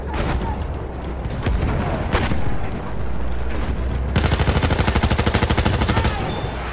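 Battlefield 1 combat gunfire: loud, dense shots and booms, ending in a rapid, steady machine-gun burst that rattles on for a couple of seconds.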